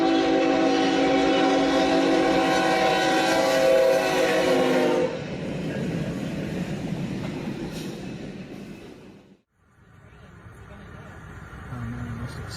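A train rolls past a road crossing, its drawn-out horn blast sounding loud and steady for about five seconds over the rumble of the cars, then the passing wagons rumble on, briefly dipping before continuing.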